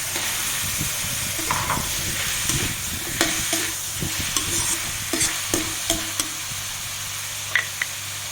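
Pumpkin and tofu stir-frying in a pan after sea salt is added, with a continuous sizzle and sharp, irregular scrapes and taps from stirring, close and without voices.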